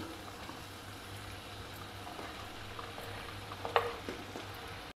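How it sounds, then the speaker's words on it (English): Chopped vegetables with tomatoes sizzle softly in a pan over a medium flame, a low steady crackle with a few scrapes of stirring and a brief clatter near the end. "Next, we can add in the chopped vegetable"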